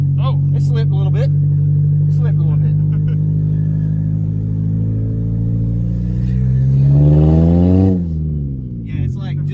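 A junkyard Nissan Altima engine hums steadily at idle, then revs up loudly and drops back down, with people talking over it.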